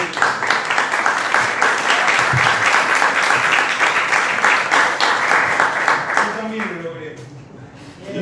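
Audience applause for a tango singer at a book presentation, dense and steady for about six seconds before thinning out. Voices begin talking over the fading claps near the end.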